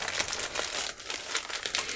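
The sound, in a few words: thick plastic bag over a mattress crinkling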